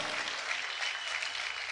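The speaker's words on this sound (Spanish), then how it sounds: "¿Cuántos pueden aplaudir fuerte al Señor?" A church congregation claps strongly at a worship service, a dense, even wash of steady applause heard at a distance and on its own.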